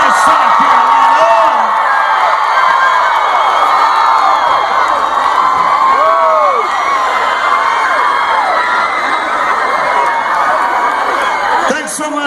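A concert crowd at a farm tour show in South Carolina cheers and whoops steadily, with individual shouts rising out of the noise while someone speaks over it.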